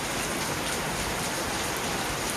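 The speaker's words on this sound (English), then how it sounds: "today it's raining." Steady rain falls as a dense, even hiss of drops across the whole moment, moderately loud with no voices and no breaks.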